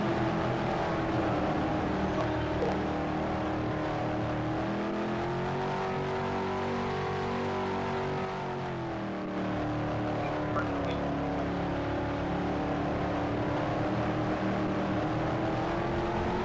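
Race cars circle the oval at Pikes Peak International Raceway during the M&Ms 200, a steady loud engine drone rising and falling slightly as the field runs down the backstretch into turns 3 and 4, with no talk over it.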